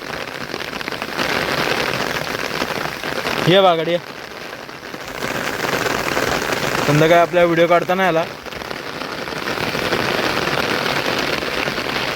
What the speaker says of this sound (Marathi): पाऊस जोरात पडतोय